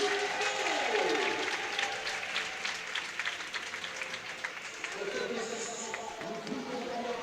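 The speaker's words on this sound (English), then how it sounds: "Very strong support from the crowd here for the Neptunes." Volleyball crowd applauding and cheering in support of the Neptunes de Nantes at a European league match, a steady broad wash of clapping and noise throughout, with a commentator's voice over it.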